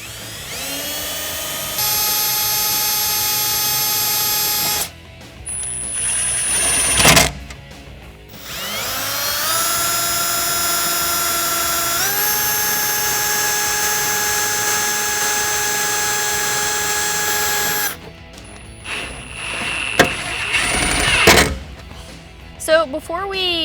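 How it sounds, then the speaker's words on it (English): A power drill whines loudly in long sustained runs while drilling pilot holes while installing a fuel pump voltage booster on a 2015-2017 Ford Mustang, its pitch shifting as it bites in, broken by brief pauses. "so I can drill my other pilot holes on the other side."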